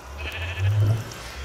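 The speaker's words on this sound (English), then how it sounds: "Hello, sheep. What are you doing here in the nether?" A sheep bleats in the Nether of a vanilla Minecraft survival multiplayer world, one drawn-out nasal cry close and moderately loud over low game ambience.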